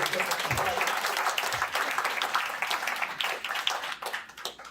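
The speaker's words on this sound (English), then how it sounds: "Please give them one last round of applause." Audience at a South African real estate agents' event applauds in a steady, dense round of clapping that carries for several seconds, fairly close, with a few voices mixed in.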